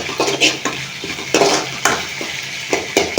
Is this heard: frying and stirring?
yes